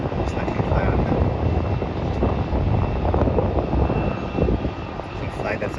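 An Airbus A320 departing Melbourne airport for Sydney, its broad steady engine roar filling the scene at constant loudness throughout.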